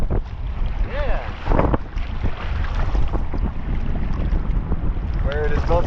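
Wind gusts across Lake Michigan during a kayak trip, a loud, constant low rumble buffeting close to the microphone, with splashes and brief voice-like tones over the top.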